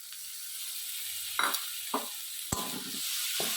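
Steady frying sizzle as chopped tomatoes are added to frying spices, with a few sharp scraping clinks of a spoon stirring the pan, no voices.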